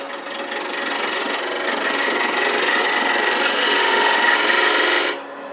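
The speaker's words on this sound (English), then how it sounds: "turn a tiny little tenon on this end and put it back in the chuck" A wood lathe spins fast while a tool turns a small tenon on the end of a box blank, giving a steady broadband rasping cut that holds for about five seconds and then drops away.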